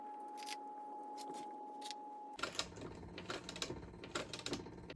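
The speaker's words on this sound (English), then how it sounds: "now I'm done sewing the 2 pieces together" Two leather pieces being stitched together: a steady faint hum gives way to irregular close scraping and tugging strokes, quiet and without talk.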